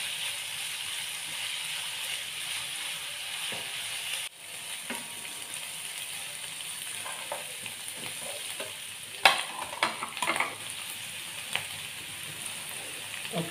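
Green beans sizzle steadily in a hot pan with green chilies while being stir-fried for homemade noodles, with occasional scraping stirs and louder clatters near the end.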